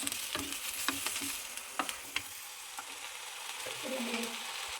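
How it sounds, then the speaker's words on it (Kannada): Green chillies frying in a pan, a steady close sizzle with occasional scraping stirs of a spoon, no talking. "ಮೆಣಸಿನ್ಕಾಯಿ ಚೆನ್ನಾಗಿ ಹುರ್ಕೋಬೇಕು"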